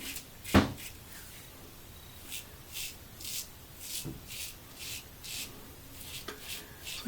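A Weishi double-edge safety razor fitted with a Dorco blade makes short, faint scraping strokes close up. The strokes repeat in a fairly even rhythm over a quiet background.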